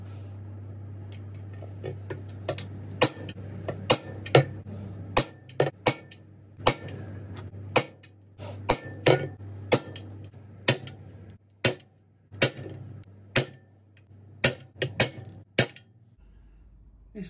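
An old punch is tapped with sharp metallic clicks against 350 V8 valve covers to mark drill holes, a steady run of close, irregularly spaced strikes over a low hum.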